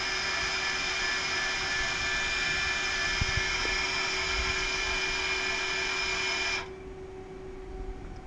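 A lathe spindle and live tools spin at 3500 RPM, heard from about three inches away as a loud, steady high-pitched whine with constant tonal hum that cuts off abruptly near the end, leaving a quieter background.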